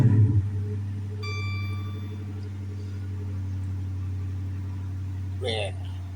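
A Hemi engine with an oil pressure fault turns over and settles into a steady idle, a low continuous hum that holds near and even throughout.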